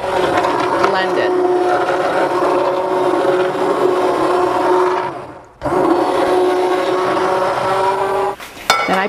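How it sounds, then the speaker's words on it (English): A stick blender whirs loudly and steadily, mixing yogurt culture into milk for a dairy ferment, cutting out briefly in the middle and again near the end before restarting. "I take my stick blender, and that's how I mix it in"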